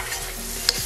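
Shrimp and garlic cooking in olive oil in a pan, a steady soft sizzle with a brief utensil scrape, close and alone, with no voices.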